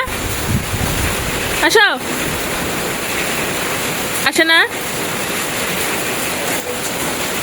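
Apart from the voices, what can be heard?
cold wind and rain outdoors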